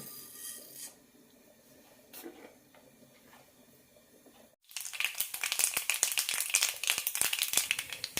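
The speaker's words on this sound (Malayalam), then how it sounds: "എണ്ണ ചൂടായിട്ടുണ്ട് കടുകിടാം" Black mustard seeds crackle in two tablespoons of hot oil for a brinjal masala fry, a dense, loud burst of sharp pops and spattering that starts abruptly halfway through after a quiet stretch with faint kitchen clatter.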